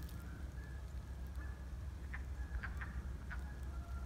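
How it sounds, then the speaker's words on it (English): A wood frog calls from a vernal pool in early spring, its short clucking croaks coming in a loose cluster of faint, distant bursts over steady outdoor background noise. "Alright, I could hear a wood frog."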